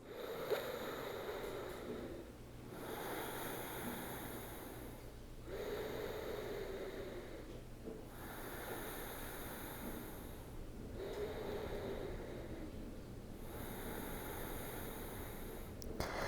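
Slow, deep yoga breathing held in a bound pose, with three long inhale and exhale cycles of airy, even rushes, each several seconds long, close and quiet, with no talking.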